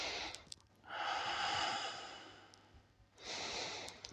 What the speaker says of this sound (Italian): Facciamo un respiro diaframmatico, ok? Vuol dire che respirerò con la mia pancia